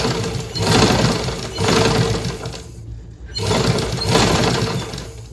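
A sewing machine runs a line of stitching on a blouse to shrink the fabric, in three loud close bursts of motor hum separated by short stops.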